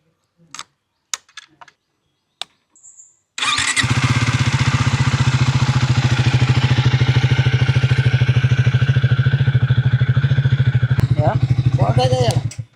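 After a few scattered clicks and taps, a motorcycle engine fires up abruptly and runs loud and close with a steady chugging pulse for several seconds before it cuts away, with faint voices near the end.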